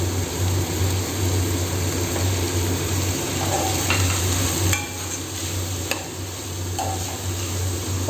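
Coriander leaves being sautéed in a pan for biryani, giving a steady, close frying hiss with occasional light clicks of stirring and no voices.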